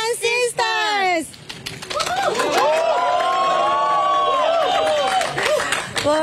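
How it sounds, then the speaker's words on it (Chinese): Fans at Taoyuan airport greet arriving Passion Sisters cheerleaders with excited shouts and squeals, loud and close, mixed with bright voices talking over the crowd. "欢呼声不断，粉丝很买单"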